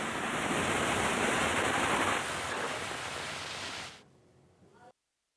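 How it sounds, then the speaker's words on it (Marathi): Heavy monsoon rain pours down across Bhiwandi, a dense, loud, steady hiss of falling water that eases partway through and then cuts off near the end. "मुसळधार पावसाला या ठिकाणी भिवंडी ग्रामीण तसेच शहर भागामध्ये सुरू झालेला आहे"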